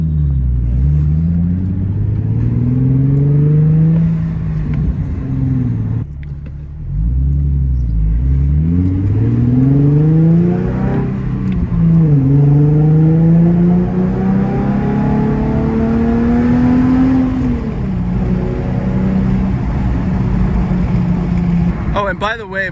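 An Infiniti G37 drives through a residential neighborhood with the windows down. Its engine hum rises and falls steadily as it accelerates and eases off, heard up close throughout, with a faint voice now and then.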